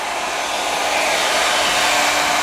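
A hair dryer blows steadily on someone's hair, a loud, close, continuous airy whoosh with a faint tonal hum beneath, holding even for the whole moment with no talking.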